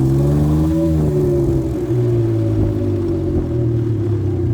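A Can-Am Ryker three-wheel motorcycle pulls away from a stop, its engine droning loud and close as the pitch climbs steadily while it accelerates.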